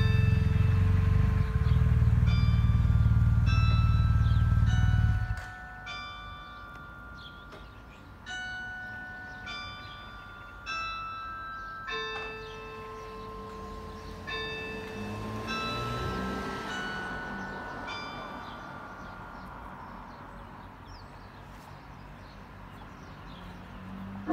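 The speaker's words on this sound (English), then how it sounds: "we're about to witness the Westminster Chimes" A war memorial clock tower in Boorowa rings the Westminster Chimes, a sequence of clear, ringing bell tones heard from outdoors at a moderate distance after a loud rumble at the start cuts off.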